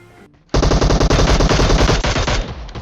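Brief quiet, then loud rapid automatic gunfire bursts in a fast continuous rattle that tapers off near the end, in a mobile shooter game. No one speaks.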